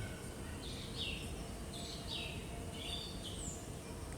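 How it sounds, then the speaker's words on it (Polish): Birds chirp in short repeated calls against a steady background hiss, fairly faint and distant. "Posłuchaj ptaków. One też do ciebie przemawiają."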